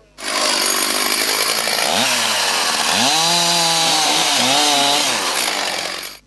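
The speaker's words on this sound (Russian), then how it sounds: "И, собрав пилу, режут деревянные блины." A chainsaw cuts wooden discs at a lumberjack competition, loud and close: a steady high engine roar that dips and rises in pitch several times as the chain bites into the wood, continuous for about six seconds.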